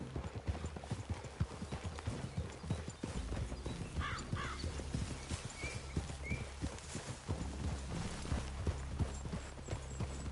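Horses' hooves clip-clop steadily on the ground in a Red Dead Redemption 2 game scene, a continuous walking rhythm with low background rumble and a brief faint whinny-like sound.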